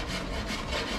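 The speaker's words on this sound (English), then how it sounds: "this is more or less sanding" Rough, close abrasive rasping as scrap wood is sanded down while shaping an oar, a continuous gritty scrubbing with no voices.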